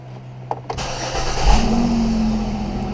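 A car with a failing rear differential cranks with a couple of clicks, fires up with a loud low burst, and settles into a steady close idle hum.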